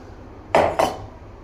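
Two sharp metallic clanks of pots and pans being handled in a home kitchen, about a quarter second apart, close and loud against quiet room tone, with no talking.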